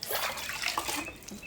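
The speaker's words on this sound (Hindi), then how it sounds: "थोड़ा सा इसे पानी पिला दूँ" Water poured from a container onto a potted money plant in a home garden, a continuous close splashing trickle that runs steadily for a moment with no voices.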